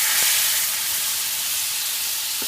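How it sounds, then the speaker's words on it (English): Melted butter sizzles in a bacon frying pan, a steady bright hiss of frying that holds evenly throughout with no voices, only a couple of faint low knocks. "So now I'm gonna add my melted butter"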